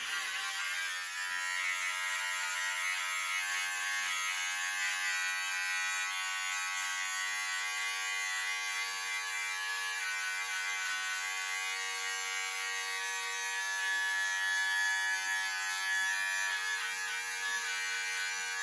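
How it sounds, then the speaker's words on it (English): A black electric beard trimmer buzzes steadily while cutting hair for a fade, a constant high-pitched motor whine held close, with slight variations in load as it moves through the hair. "I'm going to fade in this little bit of hair that you see right here with this black beard trimmer"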